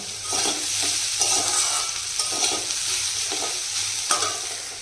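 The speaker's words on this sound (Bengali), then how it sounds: "বেগুনটা আগে ভেজে নিয়েছি তারপরে এটা ভাজছি" Food sizzles and crackles steadily in a hot pan after eggplant was fried, close up, with periodic scraping and stirring sounds over the constant frying hiss.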